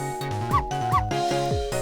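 A game dog in Ghost Trick gives a few sharp, high yips and barks over a bright synthesized musical background, each bark short and distinct.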